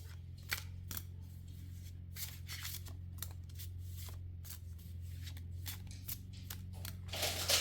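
Tarot cards are shuffled by hand, with crisp riffling snaps and slides in irregular bursts over a low steady hum, ending in a brisker flurry.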